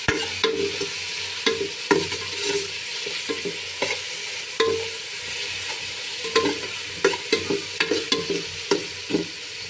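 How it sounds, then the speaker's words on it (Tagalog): Chopped tomatoes sauté in a pan for sinigang, a soft frying sizzle broken by frequent scraping stirs of a spoon against the pan, close and continuous, with no talking. "Ganyan ho ako magluto ng sinigang. Ginigisa ko ho muna."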